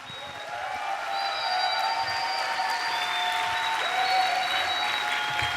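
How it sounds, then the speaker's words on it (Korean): An audience at a Sunday church service claps to welcome a seminary president to the pulpit. The applause is dense and steady, swelling in the first second and then holding at full strength. "뜨거운 박수로 환영하겠습니다"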